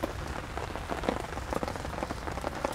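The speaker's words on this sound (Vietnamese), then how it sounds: "Cảm giác nó nghe tiếng mưa rơi rất là yên tĩnh, nó thanh bình anh em ạ." Steady rain patters and splashes on surfaces during a stormy-day fishing trip on the Giá river, a dense, continuous hiss of drops with scattered louder taps and no voices.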